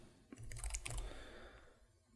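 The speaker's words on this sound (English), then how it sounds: "we go down here and we type user account" Keys tapped on a computer keyboard in a quick burst of clicks, close and moderately loud, then trailing off into quiet room tone.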